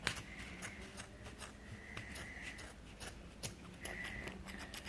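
Scissors snipping through the yarn loops of a wound pom pom, a series of quiet, close crisp cuts in irregular rhythm over low room noise, with no talk.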